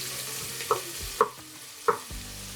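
Onions and green chillies frying in ghee and oil for mutton biryani hiss softly while a spoon stirs and knocks against the pan in several distinct clacks, close and without speech.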